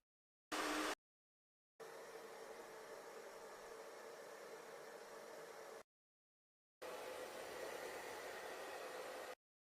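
A hair dryer blows in two long stretches of steady, hissing airflow, preceded by a brief burst, with silent gaps between, faint and even in level.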